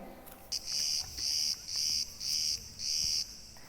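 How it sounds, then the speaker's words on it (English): A loud, buzzing cicada drone pulses in five rhythmic bursts, each about half a second long, with short gaps between them. "the correct answer for today was a cicada"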